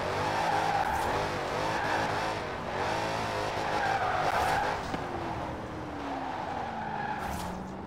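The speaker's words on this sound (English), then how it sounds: "burning out tires and all that" Car tires squealing through a burnout in the Forza Horizon 4 racing game, a continuous loud screech over a revving engine drone, with the pitch wavering and sliding throughout.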